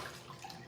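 Water with baking soda poured from a bowl into a kitchen sink, a brief steady splashing rush, close and soft, with no voice.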